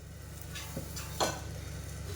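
Oil sizzling around a bottle gourd dhapate (grated lauki flatbread) frying in a pan at home, a steady soft hiss with a couple of brief louder crackles.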